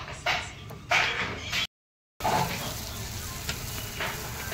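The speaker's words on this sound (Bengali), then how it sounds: "যেখানে গরম গরম ফুচকা ভাজা হচ্ছে" Fuchka (pani puri) puris frying in hot oil at a fuchka factory make a steady, loud sizzling hiss, broken by a brief gap of silence before the crackle resumes.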